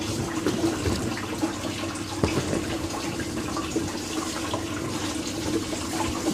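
A homemade vapor blaster with a new nozzle spraying a water and abrasive media mix, a continuous loud hissing rush with occasional spatter, steady throughout and close by.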